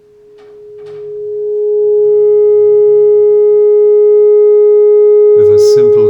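An electrically heated, glowing wire gives off a steady thermoacoustic tone, a pure sustained hum with faint overtones that swells up over the first two seconds and then holds level, with a brief burst of other noise near the end.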